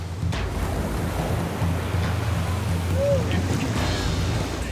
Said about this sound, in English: The waves are pounding both lifeguards and their victims.